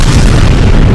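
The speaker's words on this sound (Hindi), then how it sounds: "ताबड़तोड़ हमलों की वजह से वहां तेज धमाके होते दिखाई दिए" Missile strikes setting off a heavy explosion in northern Iraq's Qandil region near the Iran border, a single loud, deep boom that fills the whole moment with rumbling low-end force.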